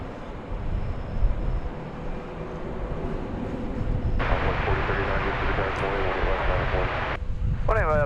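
An American Airlines Airbus A319 rolling out after touchdown at DFW Airport gives a broad, distant jet roar that swells sharply partway through, then holds loud and rumbling before a higher whine rises near the end.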